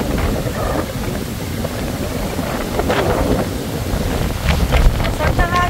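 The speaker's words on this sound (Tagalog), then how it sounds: "Masarap na hangin." Steady wind buffets the microphone at Bulabog Beach in Boracay, a kiteboarding spot, with broadband roar throughout and faint surf beneath; a few brief tonal chirps rise near the end.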